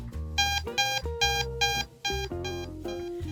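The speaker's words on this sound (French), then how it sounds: "Lorsque la pile est à niveau faible critique, vous entendrez un bip rapide et répétitif" A Prevena therapy device sounds its critically low-battery warning: a rapid series of short, loud electronic beeps in quick succession, close by and alone, with no talking.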